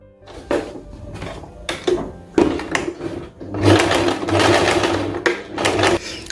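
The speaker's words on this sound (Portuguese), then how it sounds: "Eu vou passar a costura agora aqui por cima." Sewing machine stitching a seam on a summer chemise with a collar, short bursts of rapid mechanical whirring and clatter, close and moderately loud, with a longer continuous run near the end.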